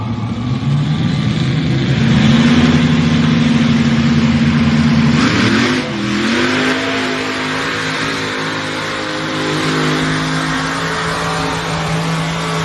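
A pulling tractor's engine roars loud and close at a tractor pull, holding a sustained drone whose pitch climbs, dips sharply midway, then recovers and holds with no talk.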